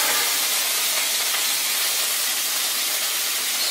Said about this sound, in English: Sizzle in the pan!